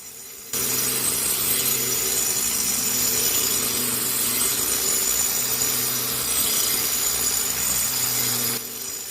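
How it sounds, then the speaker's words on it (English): A steady, harsh grinding roar of an angle grinder with a cup disc flattening stone, loud and continuous for several seconds with no voices. "You can see how easily the cup disc is flattening the stone off."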